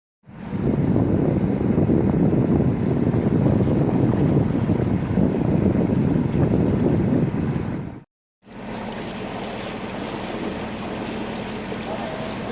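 Strong, steady wind buffets the microphone on a canal boat cruise in a loud low roar, dropping out briefly before continuing slightly softer.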